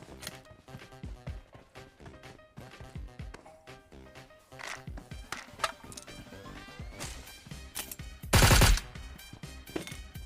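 PUBG Mobile gunfire rattles in rapid bursts as knocked enemies are finished off, sharp repeated shots with gaps between volleys and one loud sustained blast near the end, no talking.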